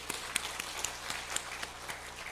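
A short burst of scattered hand clapping from a church congregation at a Friday prayer service, fairly dense and even, lasting a couple of seconds.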